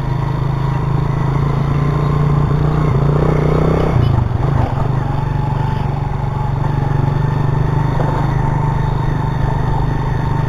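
A ten-year-old motorcycle's engine drones loudly and steadily, its pitch dipping briefly midway as the bike keeps riding, with some talk faintly beneath.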